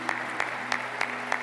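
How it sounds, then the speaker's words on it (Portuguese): Congregation at a Catholic Mass applauding in unison after the Gospel reading, five evenly spaced claps over a steady low hum, moderately loud and fairly close. "Vamos aplaudir o Santo Evangelho aqui proclamado."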